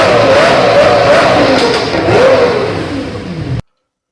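Lamborghini Gallardo V10 engine revving through a straight-pipe exhaust, loud and close, the pitch rising and falling across two throttle blips before cutting off abruptly.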